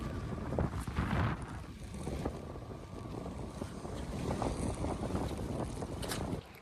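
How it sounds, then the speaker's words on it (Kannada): Wind buffets the microphone during a ride near Padukere beach in light drizzle, a continuous rushing roar with gusty surges and faint intermittent rattles, no voices. "ಗಾಳಿ"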